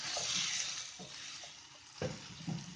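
Potatoes and cauliflower cooking in a pan, a soft steady sizzle with occasional light stirring knocks, close and fairly quiet, no voices.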